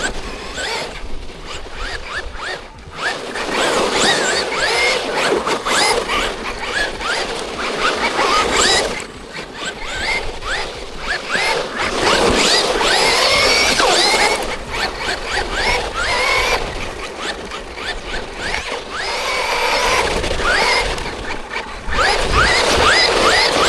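Traxxas Rustler RC car on a 2S pack driving with traction control working, its electric motor whining and tires scrabbling loudly in surging bursts, moving near and far with brief lulls between runs.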